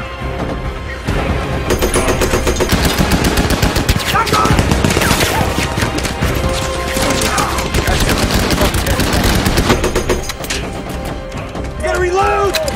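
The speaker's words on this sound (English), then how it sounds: "Hey, start shooting." Rapid machine gun fire rattles through a World War II tank battle scene against Nazi troops, dense overlapping bursts with heavy booms, loud and close, easing off near the end as a voice speaks.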